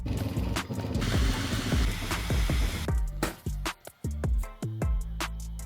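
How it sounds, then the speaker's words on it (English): A Bambu 3D printer runs a small Benchy test print with whirring motors and rapid, repeating rising and falling mechanical tones, close and fairly loud, with stepping pitch changes as the head moves. "now you can go straight to the printer and print a small benchy to test"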